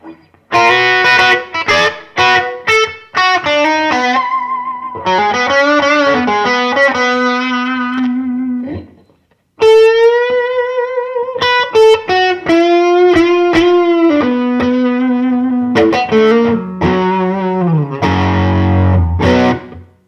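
An electric guitar plays through a Notadumble overdrive pedal, with warm, gritty, tube-like distorted notes and sustained chords in phrases, loud and close with a short pause midway.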